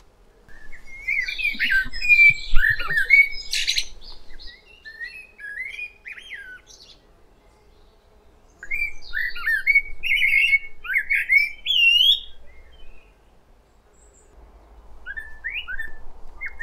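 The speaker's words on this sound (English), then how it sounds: "Fantastic sound of spring and summer, the blackbird in Britain." A blackbird sings clear, fluting phrases in bursts separated by pauses, close and loud in an otherwise quiet English back garden in May.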